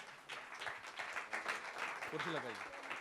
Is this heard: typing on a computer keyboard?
no